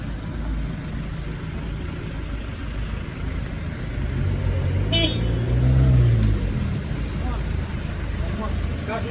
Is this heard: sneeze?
no